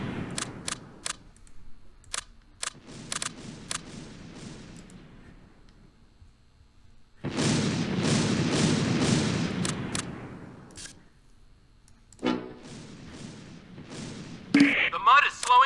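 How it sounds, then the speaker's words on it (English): A mortar half-track in a war battle fires in a string of sharp, loud reports, followed by a long roaring blast and further booming shots, with a voice shouting among the gunfire. "Get the mortar half-track if you can to start firing."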